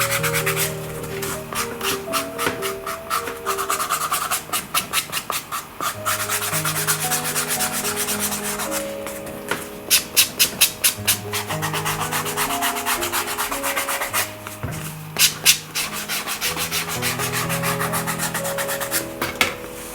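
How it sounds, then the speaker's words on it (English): Nubuck leather edges with a croc-stamped finish are sanded by hand. The rough rubbing strokes come in steady repeated passes, close and clear, with no talking. "We can now start with sanding the edges."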